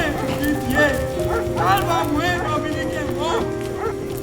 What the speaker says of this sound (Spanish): le pareció oír tropel de caballos